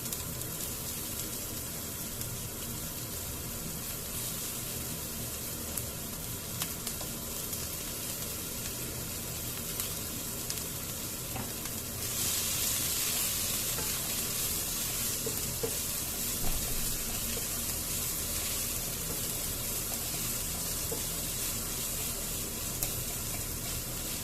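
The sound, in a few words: chopped onions frying with asafoetida in pan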